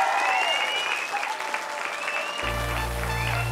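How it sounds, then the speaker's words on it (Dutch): Audience applauding loudly for a girls' dance team at a children's dance battle, with steady dense clapping and cheering that ends in a low music bass beat. "Mag ik een heel groot applaus voor de meiden?"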